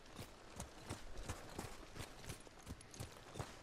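Horse hooves in the video game Ghost of Tsushima clip-clop at a steady trotting rhythm, about ten even beats over a few seconds, moderately loud and close, with no talk over them.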